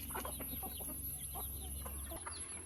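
Several hens cluck in short, irregular bursts close by on a farm, with soft peeping from chicks and a faint high electronic whine throughout.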